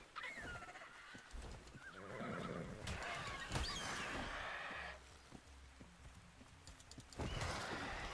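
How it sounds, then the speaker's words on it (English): A horse in the Ark Survival Ascended video game gives a loud neigh and whinny, with hooves clip-clopping steadily beneath it and a second whinny near the end. "Oh, look at that horse."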